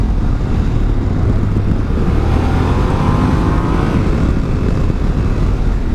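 Yamaha Ténéré 700 motorcycle riding down a steep hill, a close, steady low engine rumble mixed with wind noise, a faint rising whine swelling briefly midway.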